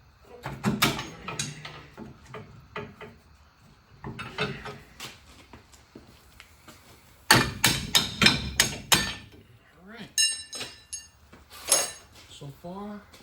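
Sharp metallic clanks and bangs come in irregular bursts, hammering on Toyota pickup suspension parts while separating springs, close by with some rattling in between.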